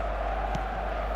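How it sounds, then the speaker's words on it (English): Stadium crowd noise from the football video game eFootball, a broad, steady roar of calling and chanting spectators, loud and continuous. "The crowd are calling for this to be put to bed."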